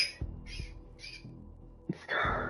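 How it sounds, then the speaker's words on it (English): A pet bird squawks in a few short, harsh bursts in quick succession, then lets out a louder, longer cry near the end, close by in a quiet indoor room. "Oh my god, my bird."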